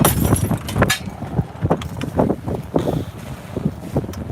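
Sudden storm wind hits a boat at anchor off Corsica, a loud gusting roar with buffeting on the microphone, waves and rattling from the boat.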